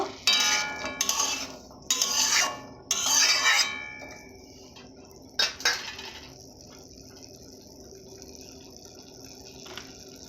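Singara potato filling frying in white oil in a pan, with clattering and scraping bursts of stirring at the start, then a steady faint sizzle with occasional utensil knocks, no talking.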